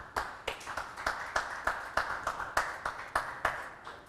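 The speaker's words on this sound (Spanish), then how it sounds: "dale un aplauso al Señor" A church congregation claps in praise, a steady rhythmic run of distinct, sharp claps, fairly faint and slightly distant, with no talking over them.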